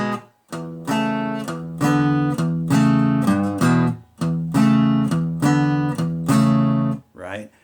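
A blues guitar figure repeats in short, punchy chord stabs that then shift up to second position. The strums are clipped and rhythmic and played close at a steady moderate tempo, with no talk over them.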